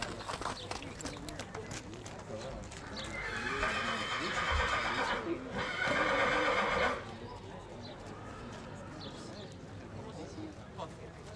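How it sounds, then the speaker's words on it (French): At a French AQPS horse show, a horse trots back on the return leg with clip-clop hoofbeats and a whinny rising midway, all under continuous commentary from an announcer over the public address. "Voici donc le retour au trot de Esprit de quartier."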